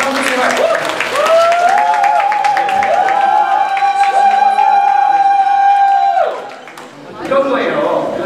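An audience claps at a church youth service while a loud, drawn-out voice calls out over the clapping, which swells again briefly near the end.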